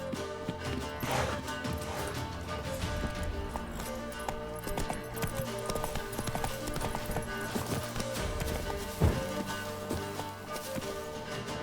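Horse hooves clip-clop steadily at a walking pace in The Witcher 3, set amid a busy game soundscape of music and ambient effects, with a sharper clatter near the end.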